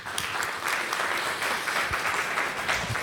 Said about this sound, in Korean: 우리 박 고사님 나오실 때 우리 박수로 환영하겠습니다